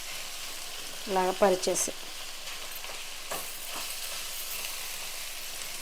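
Ginger garlic paste fries in a pan for prawn and egg fried rice with a constant, even sizzle. Someone speaks briefly over it early on, and a few soft stirring scrapes follow.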